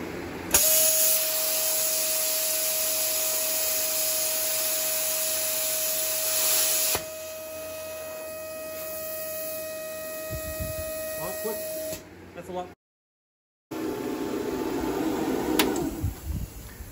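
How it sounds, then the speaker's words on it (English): A power tool cuts a hole in the steel frame of a Craftsman mud mower build, a loud steady motor whine that holds for several seconds, drops in tone, cuts out briefly, then returns as rougher grinding noise. "So I got to cut one little hole down the frame for this bracket to bolt to."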